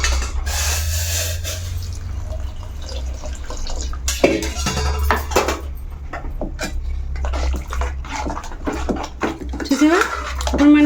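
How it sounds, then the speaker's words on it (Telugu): Hot water is poured into a pot of cooked lentils, making a steady gushing and splashing with some clinks of the vessel, while a person talks over it. "ఇప్పుడు ఈ వాటర్ని ఇందులో వేసేసుకుంటున్నాను"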